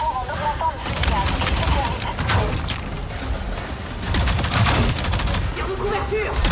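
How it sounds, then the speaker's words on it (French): Video game gunfire crackles in dense, rapid bursts of shots and mechanical clatter, loud and continuous throughout, with a voice speaking over the battle. "Tire de couverture."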